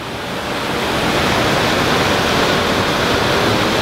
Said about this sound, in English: That waterfall is amazing.